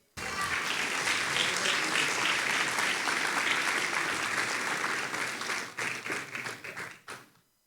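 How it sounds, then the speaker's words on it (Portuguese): A church congregation breaks into sustained, dense applause that fills the room and holds steady for several seconds, then thins into scattered claps and fades out. "Aplauda o Senhor Jesus."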